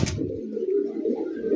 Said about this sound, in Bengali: কাগজি কবুতর